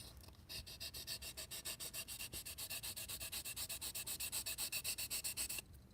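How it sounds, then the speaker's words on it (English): The sides of a styrene plastic center console piece for a Corvair are sanded flat with fast, rhythmic back-and-forth rasping strokes, close and steady for several seconds before stopping abruptly. "So that means the sides need to be sanded first down, flatten them."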